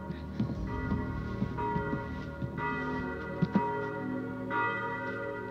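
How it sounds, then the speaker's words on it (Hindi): Church bells ring nearby in a dramatic film scene, their overlapping resonant peals sustaining and decaying, with fresh strikes a few times over a low background rumble. "गिरजाघर की घंटियां सुनाई दे रही हैं"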